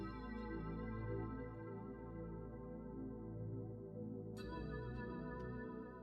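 Rhodes electric piano playing the D50 Fantasia sample, sustained chords with effects, a steady, full pad-like tone that brightens partway through, alone with no voices.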